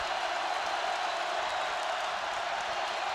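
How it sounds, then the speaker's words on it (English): A football crowd in the Fargo Dome at an NDSU vs Northern Iowa game gives off a steady, far-off roar of cheering that holds at an even level throughout. "The Fargo Dome crowd has come to life."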